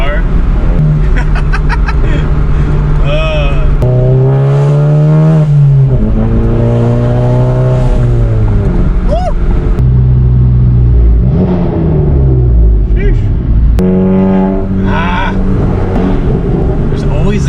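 A car engine revs loudly inside a tunnel, the pitch sweeping up and down through several bursts that echo off the walls, loud and close, with voices talking over parts of it.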